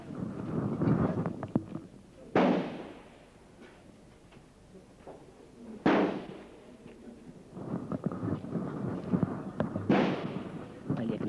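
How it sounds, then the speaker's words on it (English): Small-bore rifles fire at a Hahndorf Rifle Club shoot, giving three sharp, loud reports spaced several seconds apart over outdoor background noise and some voices. "Hear the shots going now"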